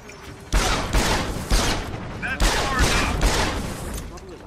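Pistol fire in the video game Deus Ex: Human Revolution, heard as loud, close bursts of repeated shots in quick succession with boomy tails and brief gaps, dense game combat noise throughout.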